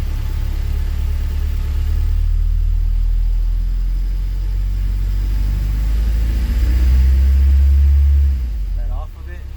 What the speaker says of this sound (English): Let's go ahead and raise the RPM slowly.